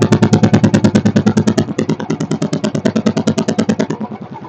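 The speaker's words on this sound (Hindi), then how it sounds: "अभी देखिए ओरिजिनल साइलेंसर के साथ भी इतना बढ़िया एग्जॉस्ट नोट है इसका।" Royal Enfield Standard 350 motorcycle running on its original stock silencer, a steady rapid thump of exhaust pulses held close and loud for several seconds, easing slightly toward the end with no talking.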